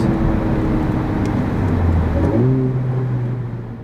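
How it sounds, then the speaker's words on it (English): A Civic Type R, 2020-2021 model in Boost Blue Pearl, downshifts while slowing for a red light on the road. A loud steady engine drone steps through rising rev blips near the end, then fades as the car slows. "So now coming up to a red light, you can see the downshifts."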